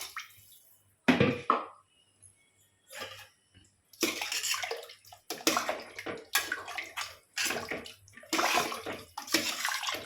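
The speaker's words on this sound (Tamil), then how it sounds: "இதுக்கு அளவு தண்ணி வந்து 5 கப்பு ஊற்றினா போதும்." Water splashes into a cooking pot in a series of separate pours, five cups for three cups of basmati rice for chicken biryani, each burst close and distinct with short quiet gaps between.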